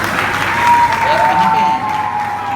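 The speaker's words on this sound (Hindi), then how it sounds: "उनके लिए प्लीज तालियां बजाइए" Audience applause for a school art and craft teacher at a cultural performance, a steady wash of clapping throughout with a sustained tone and some voices underneath.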